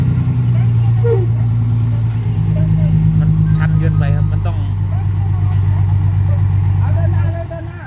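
A car engine held in gear with its wheels lifted off the ground, droning loud and close at a steady mid pitch, briefly rising then easing before dropping off at the end, with voices talking over it.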